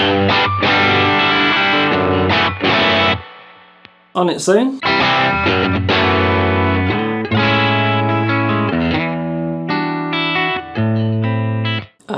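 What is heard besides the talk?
electric guitar through overdrive pedal, compared with JHS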